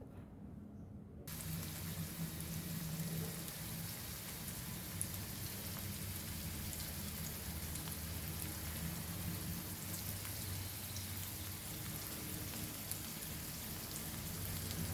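Potato slices coated in rava frying in a pan of oil for a Goan potato fry, a steady dense sizzle that holds evenly throughout after a brief quieter start.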